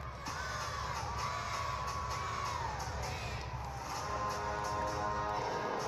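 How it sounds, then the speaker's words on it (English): Gymnastics teammates at an NCAA championship meet cheer and shout for a floor routine, a sustained crowd roar of whoops and yells, fairly distant in a large arena, with no clear talk over it. "So fun to have your teammates cheering your floor routine."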